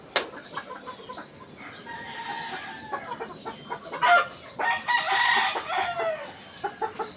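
A Spartan black gamefowl broodcock crows amid clucking and other poultry calls on a gamefarm, with several crows and chicken sounds at close to moderate distance and no speech.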